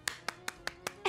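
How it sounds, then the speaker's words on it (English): Hands clap quickly in a brisk run of about six sharp, evenly spaced claps, fairly close and clear, during a children's worship song. "Now let's clap fast."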